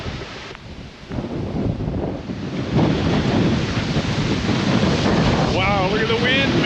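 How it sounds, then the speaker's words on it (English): Strong wind storm on a river buffets a small jet boat, a loud continuous roaring rush of wind across the microphone with water noise and a brief voice near the end. "That wind was so strong it blew me right into here."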